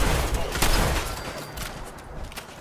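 Enemy gunfire during a Fallout 4 firefight, a rapid burst of overlapping shots and loud cracks that thin out over a couple of seconds, close and fairly harsh, with game sounds behind it.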